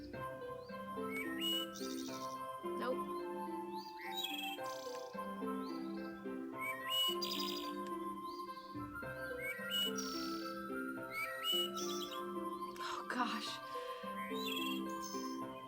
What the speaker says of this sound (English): I hear birds, yes.